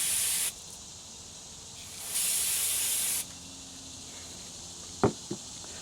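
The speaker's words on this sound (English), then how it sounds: "So I spray that junk off, I wipe it off so it slides good inside the carburetor." Spray cleaner hisses onto a carburetor in two loud, steady bursts, the first brief and the second about a second long, followed by a couple of small clicks and taps, with no talk.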